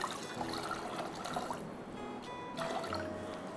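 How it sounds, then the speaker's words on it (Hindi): Water, about two to two and a half cups, poured into a cooking pot while making Hyderabadi haleem, a faint trickle under kitchen background noise, ending in a brief clink. "अब इसमें मैं डाल रही हूँ पानी, तकरीबन"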